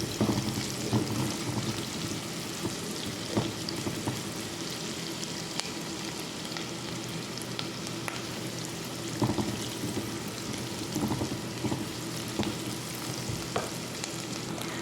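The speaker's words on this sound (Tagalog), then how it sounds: "Inuna ko muna igisa rito sa ating bawang at sibuyas." Hotdog pieces sautéing in garlic and onion for Filipino sopas, a busy close crackle of frying with scraping stirs and occasional clicks of a utensil against the pan, with no voices.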